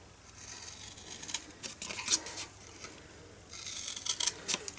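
Scissors cut through cardstock up to a score line while a matchbox-style treat box is made, giving short soft snipping and rubbing sounds, close and quiet, with no talking.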